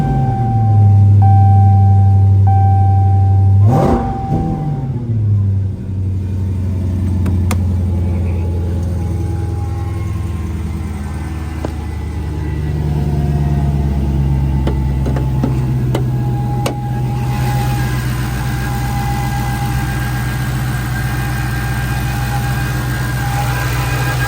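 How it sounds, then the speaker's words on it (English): A car engine cranks and catches at push-button start, then settles into a steady low idle with faint ticking that runs on for about twenty seconds, close and alone. "that way we can get the car started."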